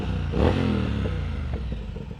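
A motorcycle fitted with an aftermarket exhaust, either a Triumph Speed Twin or a Kawasaki Z900RS Cafe, revving loudly and close by, with a rising engine note that settles into a rumbling, lumpy idle.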